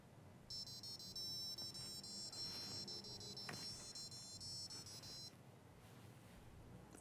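Tinny electronic beeps from a small Adafruit noise-making gadget play a tune as a steady run of notes for about five seconds, faint, with some soft handling noise beneath.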